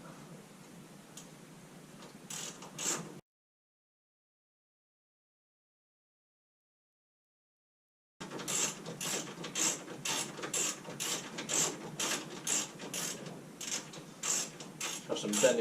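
Torque wrench tightening the 11mm shock absorber nuts on a Triumph Spitfire 1500 suspension, a fast run of faint, close ratchet clicks, briefly before a gap of silence and then continuously.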